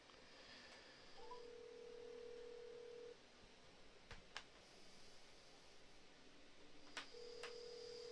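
A telephone is dialed to place a call: a sustained tone with brief clicks and short beeps follows, faint and alone with no talk.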